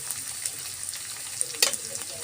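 Onion and green chilli sizzle in hot oil in a pan, a steady close crackling hiss with a few sharper spits and pops, and no voices.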